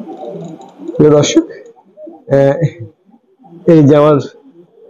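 Pakistani Teddy pigeons kept by a breeder give three deep, throaty coos in close succession, each a short rolling burst, with someone talking softly in between.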